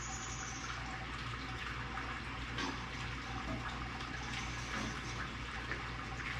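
Water drains steadily out of a brewing kettle on a home brew day for an Oktoberfest beer, a continuous splashing, running flow with no pauses and no voices.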